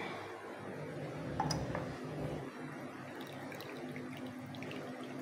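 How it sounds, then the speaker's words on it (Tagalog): Water pours into a cup of strong brewed coffee to dilute it, a steady close trickle with a faint clink partway through, no talking. "So, dagdagan natin siya ng water."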